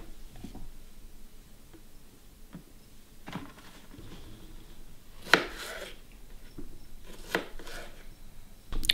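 A knife chops cabbage for chow chow on a cutting board in a kitchen, close and uneven, with a few loud sharp strikes spread among softer cuts.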